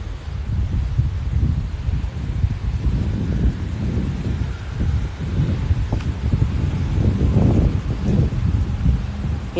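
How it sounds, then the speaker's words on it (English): Steady wind blowing outdoors during a morning walk in Savannah, a continuous low roar with gusts buffeting the microphone and a rustle like leaves, with no talking. "You can definitely hear the wind"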